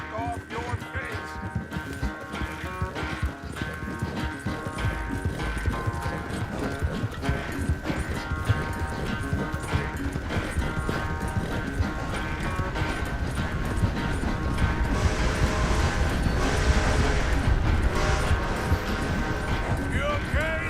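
Horse hooves clip-clop in Red Dead Redemption 2, a steady close rhythm of hoofbeats running under game music and spoken dialogue, with an occasional whinny.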